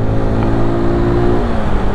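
QJ Motor SRK125 R motorcycle engine running steadily while riding at around 30 km/h, a continuous close droning hum with no talk over it.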